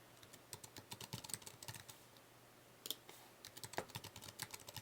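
Someone types quickly on a computer keyboard while filling in a form, giving close, light, irregular key clicks in bursts with brief pauses throughout.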